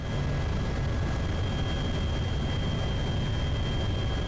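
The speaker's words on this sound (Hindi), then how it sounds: "हेलीकॉप्टर का सफर आमतौर पर खामोशी ही में गुजर जाता है, बस पंखों और अपने ख्यालात के शोर में।" A helicopter flies along the Pak-Afghan border on the way to the Tirah Valley, its rotor and engine making a loud, unbroken roar with a steady drone from inside the cabin.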